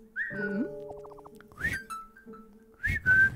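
Several short tonal whistles, some rising and falling, sound in the video game Wildfire, clear and moderately loud against a quiet background with no talking.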